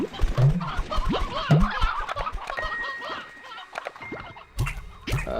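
Chickens clucking in Slime Rancher 2, a series of close, repeated clucks and short squawks scattered over a few seconds amid game sounds, with no talk.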